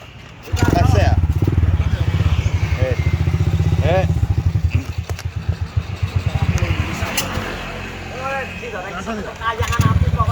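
An Apollo motorcycle engine revs in sputtering bursts during a test run, its rapid firing pulses loud and close, with people talking over and around it.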